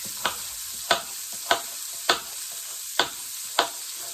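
A Japanese tofu stir fry is cooking in a pan: six evenly spaced spatula scrapes, roughly every 0.6 seconds, ring out over a soft, steady sizzle, close by with no voices.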